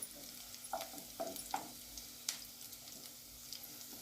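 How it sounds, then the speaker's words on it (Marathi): Garlic sautéed in a pan, a faint low sizzle with a few soft scraping stirs of a spatula spaced through the clip, fairly quiet and without talk. "लसूणला पण 2 मिनिटं आपण परतून घेऊया."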